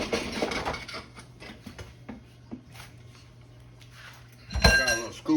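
A spoon scrapes and clinks against twice baked potato skins and a dish in short irregular strokes, quiet and close, with a louder clatter near the end.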